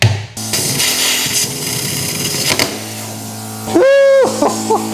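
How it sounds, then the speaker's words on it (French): A power tool cuts into an aluminium wheel rim, a harsh, loud, continuous grinding roar up close that shifts into a sharp rising whine near the end. "on va recycler cette jante en la découpant et on va la faire fondre pour faire notre garde"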